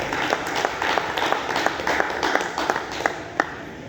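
An audience claps continuously. The applause is dense and moderately loud, with sharper individual claps standing out over a steady wash of hand noise.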